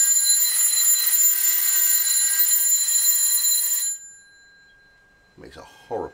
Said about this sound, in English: It's quite apt to have a bell, I suppose, in a bell jar.